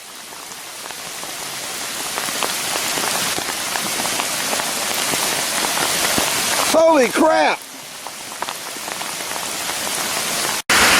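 Heavy rain pours steadily onto a tent and hammock camp in woods where a ditch is overflowing, a dense, loud hiss throughout, with a brief shouted exclamation from a man near the end.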